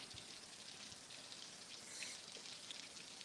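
Steady rainfall in Winter Garden patters and hisses on surfaces, very faint and even, with no voices.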